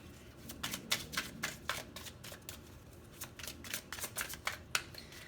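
Tarot cards being shuffled and drawn, giving a steady run of crisp, papery riffles and flicks close to the mic, repeating for several seconds with no talking.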